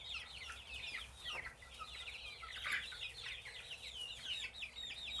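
Chickens cluck and chatter steadily in a coop under heat lamps, a busy layered flock heard at low volume over a constant background hum.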